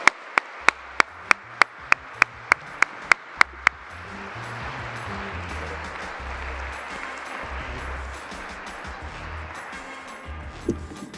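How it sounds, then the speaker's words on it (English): After a run of about a dozen sharp, evenly spaced taps, an audience breaks into steady, moderately loud applause for Mayor Eric Garcetti, a continuous wash of clapping that carries on to the end. "please give a huge round of applause to our chair, Mayor Eric Garcetti"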